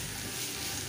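Vegetables for a bread pizza stuffing fry in a pan with a steady, close hiss of sizzling that fills the short moment without any talking.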